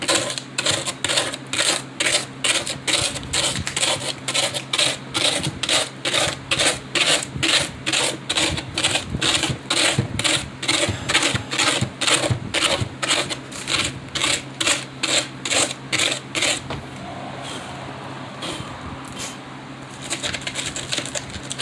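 Rapid, steady rasping strokes from a knife cutting through craft terrain material for a mountain model, close and fairly loud, slowing and softening near the end.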